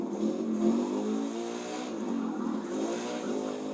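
A car engine in the racing video game The Crew 2 revs steadily with a smooth, sustained tone, loud and continuous throughout with no talking over it.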